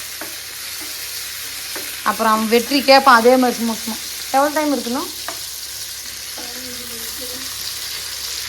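Ingredients sauté in a home cooking pan for a curry, giving a steady soft sizzle throughout while people talk nearby in short bursts.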